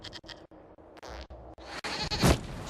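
A goat bleats in Dragon Age Inquisition during a fight at a building, several short bleats rising to a louder cry near the end amid game combat noise.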